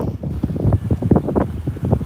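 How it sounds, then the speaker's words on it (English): Strong gusty wind buffets the microphone outdoors, a loud, uneven low rumble that swells and dips without pause for the whole stretch. "Oh my God, it's really windy."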